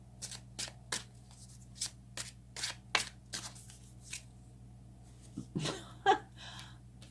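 Tarot cards being shuffled and drawn by hand, a series of crisp riffling snaps and slaps at an uneven pace, close and fairly quiet, with a low steady hum underneath.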